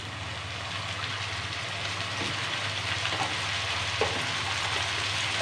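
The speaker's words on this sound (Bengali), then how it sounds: "আমার পেঁয়াজ ভাজা হয়ে গিয়েছে, এখন এর মধ্যে দিয়ে দিব 2 টেবিল চামচ পরিমাণ পেঁয়াজ রসুনের পেস্ট" Fried onions keep up a steady, even sizzle in the pan as onion-garlic paste goes in, with a few faint clinks and nobody speaking.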